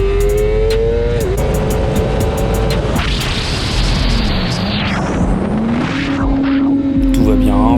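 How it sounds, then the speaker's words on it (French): A motorcycle engine revs hard through a wheelie, its pitch climbing and holding high, then drops back under braking and picks up again; loud and close throughout. "Donc encore un petit wheelie tranquillement et un freinage."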